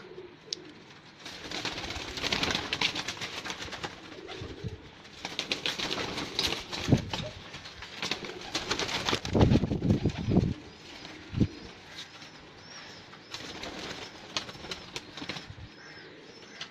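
A loft of pigeons nearby makes soft cooing, with bursts of wing flapping and rustling between calls. The sounds are moderately close and quiet, with no talk.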